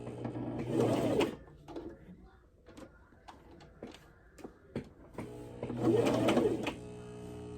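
A sewing machine stitches a skirt in two loud bursts of rapid whirring, separated by a quieter stretch of scattered clicks and handling noises as the fabric is adjusted.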